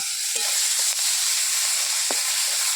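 Onion stalks frying in a small amount of oil, a continuous bright sizzle and crackle throughout, with a few soft stirring knocks.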